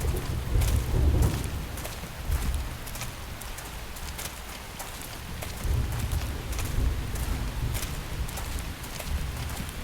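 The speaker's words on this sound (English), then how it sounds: "The rain's starting to let up, just in time for sunrise." Rain falling in the video game Xenoblade Chronicles X, a steady hiss of rainfall with low rumbling swells like distant thunder rising and falling throughout, no voices.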